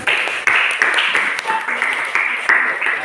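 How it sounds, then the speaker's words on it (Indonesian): Group of people clapping after a classroom group presentation in a teacher training session, a dense, steady patter of hands close by that runs through the whole stretch with small swells. "kita berikan aplaus loh"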